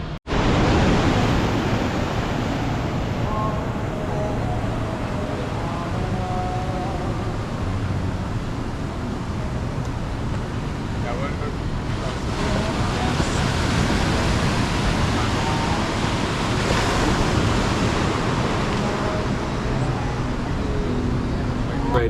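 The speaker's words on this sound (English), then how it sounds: "So I'm just enjoying like a good time here at the beach." Loud, continuous surf at a beach, waves washing in a steady roar with wind buffeting the microphone and a voice faintly beneath.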